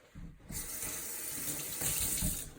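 Tap water runs steadily from a faucet into a sink to wet a paper towel for cleaning acrylic paint brushes; a broadband rush starts after a brief pause and stays fairly loud and continuous.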